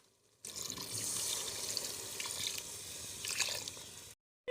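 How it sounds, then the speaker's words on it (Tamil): Water is poured into a cooking pot of spiced mutton biryani base on a rooftop, producing a steady rushing splash for about four seconds before it stops abruptly. "தண்ணி ஊற்றிக்கலாம்"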